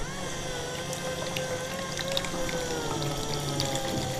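Water pours from a toy baby doll bathtub in a steady, continuous trickle, fairly quiet and close, with faint clicks and tones from the toy over it.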